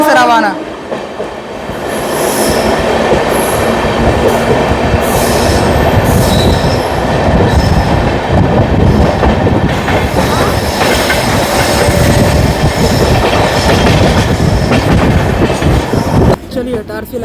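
The Jabalpur–Raipur Intercity Express leaves Madan Mahal station and runs on. Wheels rumble and clatter loudly on the rails, with squeals and rattling carriages, heard close and continuous throughout.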